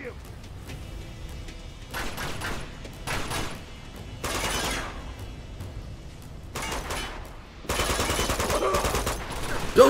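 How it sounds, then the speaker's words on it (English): Bursts of video-game gunfire in Uncharted 2 arrive in loud clusters separated by quieter gaps, with the heaviest volley near the end, and a person's voice is heard in between. "Who the hell's shooting me?"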